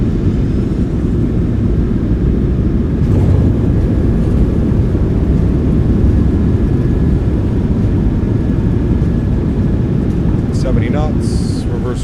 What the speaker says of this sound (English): Nose down gently, reversers are out,